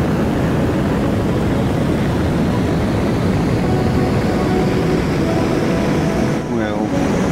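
A plane in Kerbal Space Program 2 rolls down the runway for launch, a loud steady engine roar with a brief dip and whine near the end.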